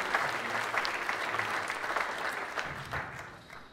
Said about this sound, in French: je vous demanderai d'applaudir bien fort